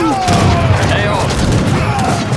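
Bombard artillery fire in Age of Empires 3, a dense fusillade of booming cannon blasts rolling continuously over a busy battle soundscape, loud throughout.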